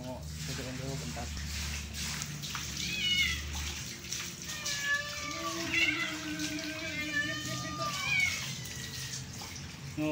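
An angora cat meows repeatedly while it is bathed with water; running water splashes underneath and people talk throughout.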